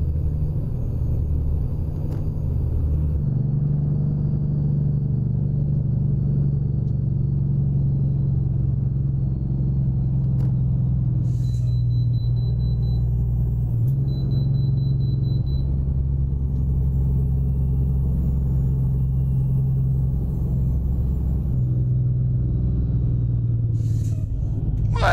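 American Truck Simulator truck engine rumbles steadily at highway cruising speed, a loud constant low drone with a few faint tones and clicks over it.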